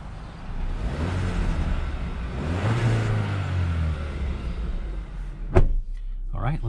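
A 2022 Hyundai Kona N Line with a four-cylinder engine drives along, its steady engine drone and road rumble continuous and close, with a sharp thump near the end.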